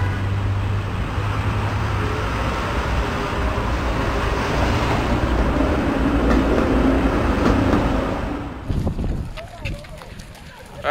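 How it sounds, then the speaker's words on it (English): A New York City C subway train rumbles steadily along the track for several seconds with loud, dense low-end roar and rattle, then slows and quiets near the end, with clicks and clatter as the car settles. "I got to take a C train from Columbus Circle up to about 100th Street"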